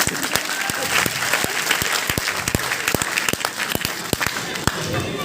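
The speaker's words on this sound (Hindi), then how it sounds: "समझ में आई तो ठोको ताली।" Dense audience applause at a talk in Nawadah, steady and loud throughout with sharp individual claps standing out, continuing for several seconds without a break.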